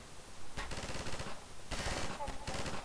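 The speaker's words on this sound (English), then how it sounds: "Can I shoot these things?" Rapid automatic gunfire from a weapon in the video game Half-Life 2 Episode 2 comes in three separate loud bursts with short pauses between them.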